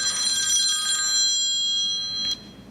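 A telephone ringtone chimes steadily with bright tonal rings for a couple of seconds during an evening Bible study gathering, then cuts off; clear and fairly loud, no talking over it.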